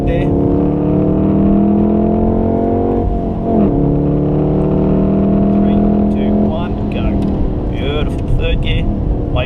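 A Volkswagen Golf R engine drones loud and close while lapping the Wakefield race track, holding a steady throaty note that dips and rises with gear changes, with an instructor's voice over it near the end.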